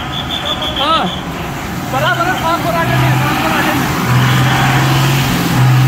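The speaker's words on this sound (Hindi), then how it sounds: "Welcome to Pulwama marathon. Traffic and traffic and traffic." Road traffic in Pulwama town during a marathon, with steady vehicle engine rumble, passing cars and repeated horn honks, loud and close, while people talk over it.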